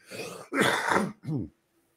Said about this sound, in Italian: mi sta arrivando un colpo di tosse